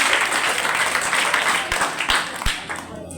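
Audience applause for the winning house at a school debate competition, broad steady clapping from a crowd lasting the whole stretch, with a few louder claps standing out near the end.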